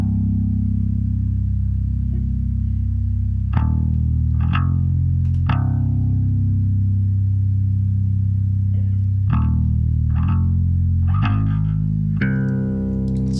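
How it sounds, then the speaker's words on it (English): Live bass guitar played through a chorus effect, with deep sustained notes and a few plucked attacks in a slow, sparse line, heard alone and fairly loud. "And bass guitar sounds like this."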